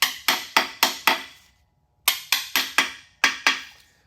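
Metal hammer blows on cylinder heads for a 1952 Chevrolet truck engine project: nine sharp, loud, ringing strikes at a steady rhythm, in two groups split by a brief pause, close by with no talking.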